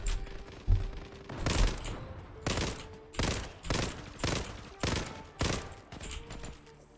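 Bursts of automatic rifle fire from an M468 in the shooter game Zula, about eight rapid, evenly spaced volleys sprayed in quick succession, loud and close, with faint background game sounds between them.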